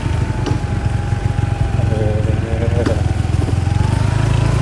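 Motorcycle engine droning steadily while riding along Bang Saen, a close, constant low hum with slight pitch shifts as the bike rolls on, with a voice talking over it at times.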